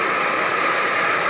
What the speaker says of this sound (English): I got water boiling. Let's turn that off.